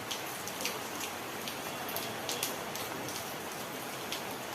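Heavy storm rain pours down in a steady, dense hiss, drops drumming evenly on surfaces nearby, with no voices over it.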